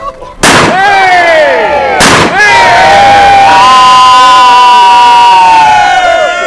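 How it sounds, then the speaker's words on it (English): Two loud shotgun blasts crack out at an outdoor Somerset wassail in an orchard, each followed by rolling echoes, while a crowd cheers and shouts around them. "And traditionally, that noise was with shotguns."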